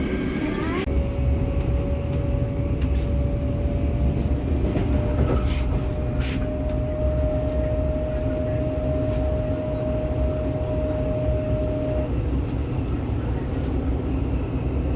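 Steady rumbling of a French suburban train rolling along the tracks from Paris Saint-Lazare, with a long high-pitched whine from the wheels or brakes as it nears a stop and occasional clanks, continuous throughout.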